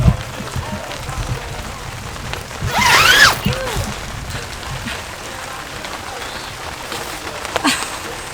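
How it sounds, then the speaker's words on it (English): Rain falling on a forest campsite in the Coconino National Forest near Flagstaff, Arizona, a steady soft patter through the whole stretch, with a brief louder burst of movement around the middle and faint noises from people nearby. "The rain is starting again."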